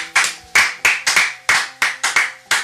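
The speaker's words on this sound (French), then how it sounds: "Est-ce qu'on peut acclamer le Seigneur?" A church congregation claps in bursts of applause, about nine sharp, uneven claps spread across a few seconds, loud and close, with no talk over them.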